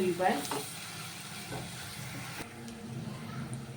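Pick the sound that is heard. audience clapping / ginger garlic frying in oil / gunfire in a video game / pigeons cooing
ginger garlic frying in oil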